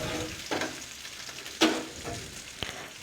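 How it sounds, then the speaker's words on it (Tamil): Small shallots frying in three spoons of hot oil for a fish curry, a steady soft sizzle broken by a few louder stirring scrapes and clinks, close by with no talking. "இப்போ எண்ணெய் 3 ஸ்பூன் ஊற்றிக்குங்க. இப்போ சின்ன வெங்காயம் போட்டுக்குங்க."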